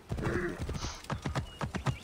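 Horse galloping in the video game Assassin's Creed Origins: a fast, steady run of hoofbeats up close, a quick rhythmic clatter lasting two seconds with no talk over it.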